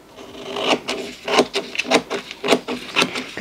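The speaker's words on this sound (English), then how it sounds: "I just need to trim around it. So I'm just trimming it up some." Scissors trim around a sublimation-printed design, a series of short crisp cutting snips coming in an uneven rhythm, close up and with no voice.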